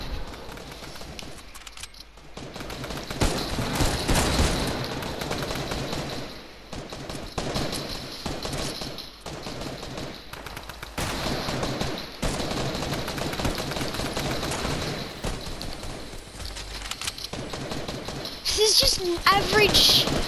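Hunting rifle fire in Fortnite cracks out as bursts of sharp shots amid continuous game noise, with players talking over the action.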